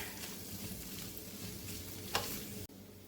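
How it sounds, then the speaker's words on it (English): Dried oregano, smoked paprika and chili powder sizzle in a hot pan for cheesy sloppy joes, a steady close frying hiss broken by one brief scrape of the spoon before it cuts off abruptly. "I'm going to give this a stir."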